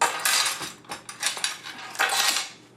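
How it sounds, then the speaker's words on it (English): A metal spoon stirs and scrapes through the mash for an all-grain saison beer in a pot, producing continuous close, loud scraping and clinking with no talk. "course stir it around."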